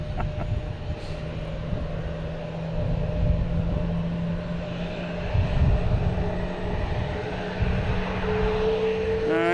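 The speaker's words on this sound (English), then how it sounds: "there's starting up their engines. It's a Neo, so it sounds a little bit nicer." A Spirit Airlines Airbus A321neo spins up its engines at Boston Logan Airport, a steady whine and low turbine rumble that swells gradually, heard from a moderate distance over airport ambience.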